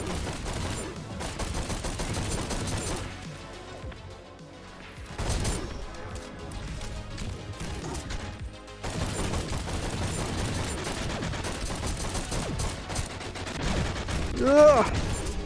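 Battle rifle gunfire in the shooter GTTOD: Get To The Orange Door, with dense, repeated loud shots and crashing impacts running nearly throughout, briefly thinning around a few pauses, alongside busy game effects.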